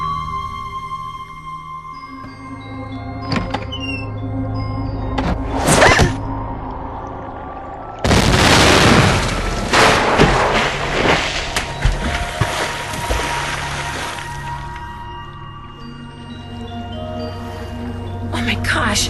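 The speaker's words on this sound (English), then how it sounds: "whoever threw that ice ball at me must have set off an explosion that shattered the ice" An explosion shatters the ice of a frozen lake during ice fishing in Nancy Drew: The White Wolf of Icicle Creek, a sudden loud burst followed by several seconds of crackling, splintering debris after quieter game ambience.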